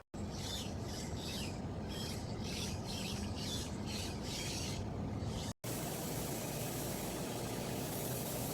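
Steady rubbing rasp of sanding on a Peterbilt 379 truck part, with rhythmic strokes in the first half, a brief cut, then continuous broadband scraping, close and loud without talk.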